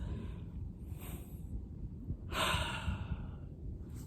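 A single slow, deep breath drawn in and released during a calm guided relaxation moment, soft and close with a brief louder airy swell partway through; no talking.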